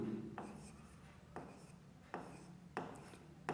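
Pen scratching across paper during an accounting lesson, a soft continuous scribble broken into several short strokes with sharper onsets, close and quiet, with no talk over it.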